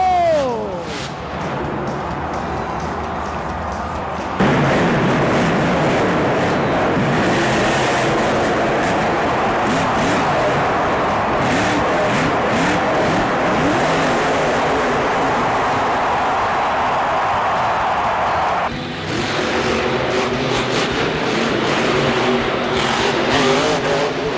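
Monster trucks race and jump at a Monster Jam event, engines roaring and revving loudly in long surging bursts with shifting pitch, over crowd noise and an excited announcer talking throughout.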